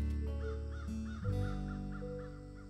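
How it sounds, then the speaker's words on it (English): A mother crow and her young eating berries caw as they fly off: a quick series of about seven harsh caws, close and clear, over a soft musical background. "they stopped eating berries and flew away saying, "Caw, caw, caw.""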